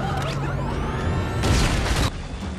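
A suicide bomb goes off at the White House fence in the action film Olympus Has Fallen, a loud sudden blast with crashing debris that swells and then breaks off abruptly, following a rising whistling tone.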